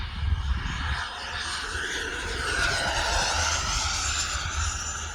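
An E-flite 80mm F-16 Thunderbird RC electric ducted-fan jet makes a high-speed inverted pass, a rising whooshing whine that swells and holds steadily over outdoor wind noise, without talk.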